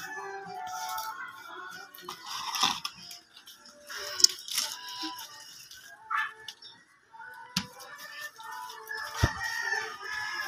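Chickens on a small mini farm cluck and a rooster crows in short bursts, close and moderately loud, with scattered rustling and bird calls between them.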